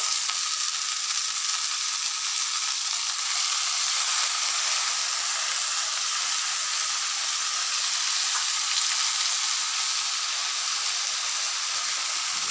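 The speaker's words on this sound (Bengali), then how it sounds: "এই দেখো শাক আলু বেগুন দিয়ে একটা চচ্চড়ি হচ্ছে" A pan of Bengali chorchori, leafy greens with potato and eggplant, fries on the stove, giving a steady, even sizzle and hiss that runs unbroken at close range with no voices over it.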